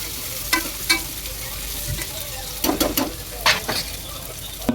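Sliced onions and split green chillies fry in a pan for goat paya, a steady sizzle broken by a few sharp scraping strokes of a spatula as they are stirred, with no talk.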